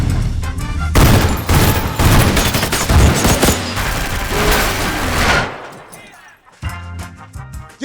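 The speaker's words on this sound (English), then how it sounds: "we wanted the gunshots, the flashes of the gunshots, to be in sync with the music too" In a film scene, gunshots fire in dense rapid bursts synced to loud music, a heavy continuous barrage for several seconds, then the noise cuts out and only sparse sounds follow.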